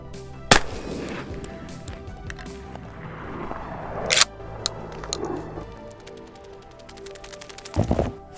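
A shotgun fitted with a Cyelee Wolf X Pro red dot sight fires three sharp, loud blasts spaced several seconds apart during a torture test, with quieter handling noises between shots.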